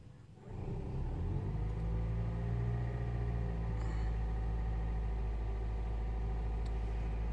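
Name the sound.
Toyota Aqua/Prius C petrol engine starting and running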